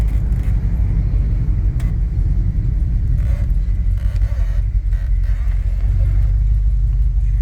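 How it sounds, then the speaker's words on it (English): A 1977 Ford F150 Ranger "Trailer Special" pickup with a 460 V8 driving through city streets, its deep engine rumble steady and loud from inside the cab, no talking. "460 engine, V8, the last of this type put in a truck of the year"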